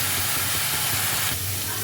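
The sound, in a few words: spice paste frying in oil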